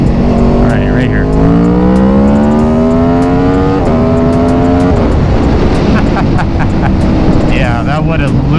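An Aprilia Tuono V4 motorcycle engine screams loudly up through the gears on a test ride, its pitch climbing steadily, dropping at a shift, then rising again amid heavy wind roar.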